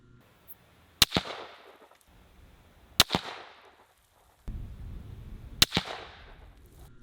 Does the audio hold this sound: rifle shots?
yes